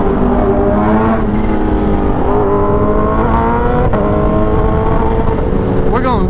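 A Kawasaki Ninja H2 motorcycle revs hard as it accelerates for a wheelie, the loud close engine note climbing and shifting through several pitch sweeps and staying dominant throughout.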